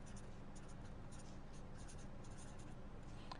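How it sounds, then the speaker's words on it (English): Pen or chalk scratching steadily on a writing surface during an algorithms lecture, a faint, continuous rhythm of short strokes heard alone. "So let me write that down,"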